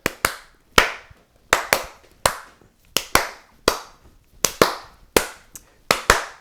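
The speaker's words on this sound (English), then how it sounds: "I started clapping" Hand clapping at home during a soccer commentary: about a dozen sharp, loud claps in uneven bursts of two, close to the microphone, with short silences between them and no talking.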